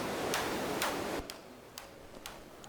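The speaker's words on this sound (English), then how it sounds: "Now it starts sounding like something click-like." Sharp clicks synthesized with 4klang tick at a steady, fairly even pace, first over a noisy hiss, then more isolated against a quieter background.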